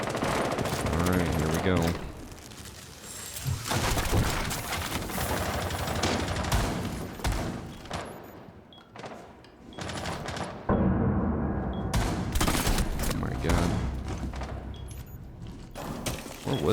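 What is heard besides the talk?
gunshots in a video game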